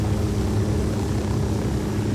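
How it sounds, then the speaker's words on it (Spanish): Steady rotor and engine drone of a helicopter flying in Tom Clancy's Ghost Recon, a continuous, close, loud hum with no voices. "Estoy dando el equilibrio al helicóptero"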